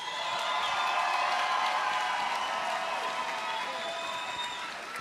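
Crowd noise at an MMA cage event after a fight ends, dense applause and cheering holding steady and loud through the whole stretch, fading only slightly toward the end.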